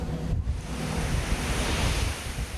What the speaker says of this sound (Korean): 파도가 칠 때마다 바닷물이 폭포수처럼 쏟아진다.